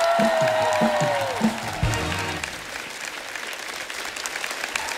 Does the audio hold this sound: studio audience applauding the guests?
yes